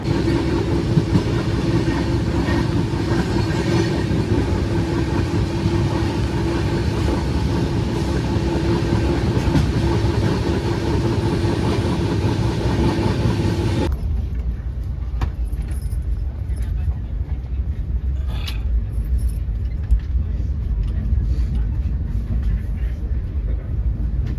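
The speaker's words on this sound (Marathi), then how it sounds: "फायनली ट्रेन पण निघाली आहे आता" Loud, steady rumble of a Mumbai CSMT–Madgaon train pulling away, dense low rolling noise that suddenly drops to a quieter clatter partway through, with faint metallic jingles.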